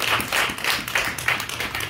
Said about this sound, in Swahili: Piga Bwana Yesu makofi kwa ajili ya hilo.